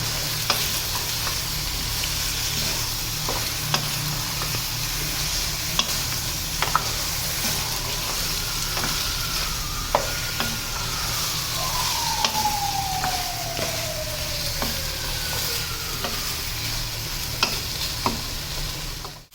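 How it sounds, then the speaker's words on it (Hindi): Steady sizzling from eggplant and potato frying with ginger, garlic and green chili paste in a pan, with occasional stirring clicks and scrapes; a faint siren wails in the distance midway. "उसके साथ थोड़ा बैंगनों को भून लेंगे।"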